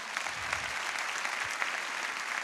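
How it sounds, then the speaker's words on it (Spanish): An audience at a comedy monologue show claps for a performer, a short burst of mixed clapping with a few louder claps standing out. "Un aplauso para Gustavo Serasti."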